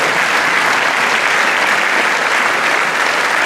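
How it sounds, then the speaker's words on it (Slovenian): Dense, loud applause from a large concert crowd, a continuous even roar of clapping that holds steady throughout without any voices standing out. "Tako da je aplavz za to, Zlatja, bravo."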